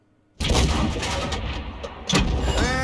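The FV304 artillery gun in a video game fires a shell with a sudden heavy boom, close and loud, its rumble trailing off before a second thud near the end.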